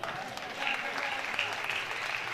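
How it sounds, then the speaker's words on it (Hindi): Audience applause at a Hindi comedy poetry gathering, a dense, steady patter of many hands clapping at once from a live crowd, sustained evenly throughout without a break. "यहाँ कम से कम हमारी लाइनों पे बराबर ताली बजाते रहना आप।"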